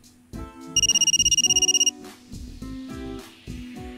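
Telephone ringing in the Japanese horror adventure game Shin Hayarigami 3: a rapid electronic trill rings for about a second over game background music and sound effects, fairly loud and close.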